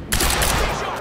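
A short, loud burst of rapid gunfire from the shooter game Quantum Break, a dense rattling volley that tails off quickly.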